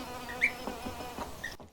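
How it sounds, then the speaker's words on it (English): Buzzing of solitary bees digging into the ground on a farm in Portugal, a steady insect hum with brief louder passes close by. "That's what all those bee noises are in here."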